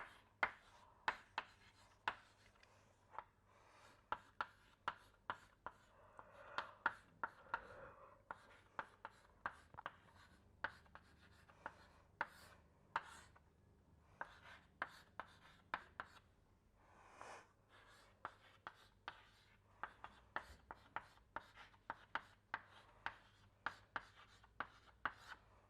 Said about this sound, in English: I am going to just write this out.